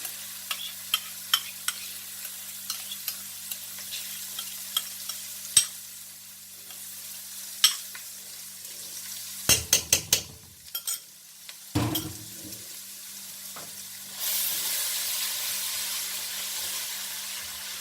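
Garlic and ginger frying in a pan with a low sizzle, broken by regular utensil taps and a few loud scraping stirs, then a louder surge of sizzling near the end, with no voices.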